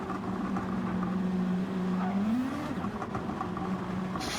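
Several race cars pass on a track in Gran Turismo 7 during an endurance championship race, engines droning steadily with a pitch sweep as they go by, sustained and fairly loud throughout.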